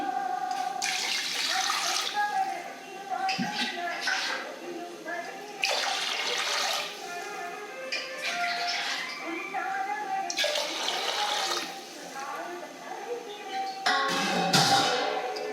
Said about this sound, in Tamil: எண்ணெய் ஊற்றாம தண்ணி ஊற்றி